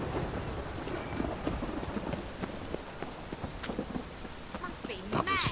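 Steady heavy rain with rumbling thunder in The Witcher 3: Wild Hunt, a dense broadband downpour running throughout, with brief crackling bursts near the end and faint game voices underneath.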